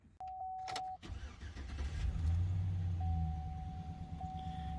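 Car engine starting with a factory exhaust: a door chime and clicks, a short cranking burst, then the engine catches and settles into a steady low idle rumble, heard close with no talking.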